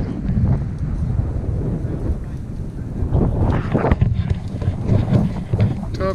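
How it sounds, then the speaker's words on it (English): Strong wind buffets the microphone outdoors on a mountain rabbit hunt, with a continuous low rumbling roar and gusts that swell louder midway through. "just look how windy it is right here"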